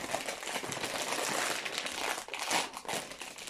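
A plastic bag of LEGO pieces from a Creator birthday train set crinkles continuously as it is opened, close and fairly loud, with a sharper burst of rustling near the end and no speech.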